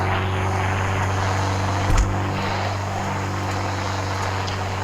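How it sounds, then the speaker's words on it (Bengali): A steady propeller-plane engine drone from a 3D video game, flying in rain, hums continuously with a brief thump partway through, no voices. "বৃষ্টির মধ্যে কি প্লেন চালানো যাবে? একবার ট্রাই করি।"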